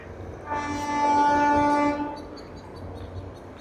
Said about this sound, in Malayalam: അപ്പോൾ ഇത് കവച് ഉള്ള ഒരു ലോക്കോമോട്ടീവ് ആട്ടോ